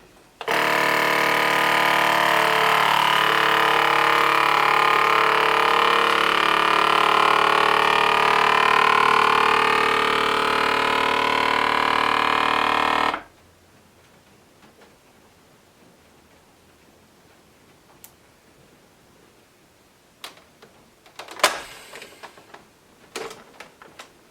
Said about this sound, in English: we are gonna go ahead and get these vacuumed and sealed